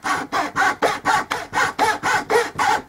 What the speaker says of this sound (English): put your piece of wood in, put yourself in a comfortable spot, and you simply saw down